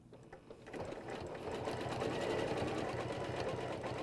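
A sewing machine stitches steadily through quilting fabric guided by a back-to-back ruler template, its close, even mechanical whir running unbroken and growing slightly louder after a brief start.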